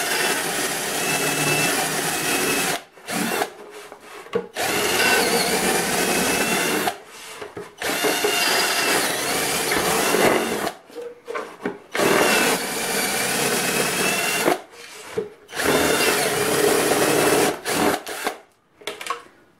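A power drill fitted with a plastic-bottle dust collector grinds steadily into a wall in several long bursts, stopping briefly between each run, loud and close.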